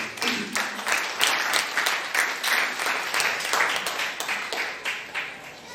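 A church congregation applauds at a French-language sermon service, a steady wash of many hands clapping together with a rhythmic pulse, moderately loud and continuous for several seconds.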